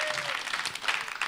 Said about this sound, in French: Applaudissez pour l'imam